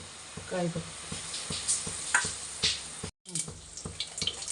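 Oil heating in a pan for a sambar tempering hisses and crackles close by, with a rhythmic low tapping running beneath, a brief dropout midway, and some background talk.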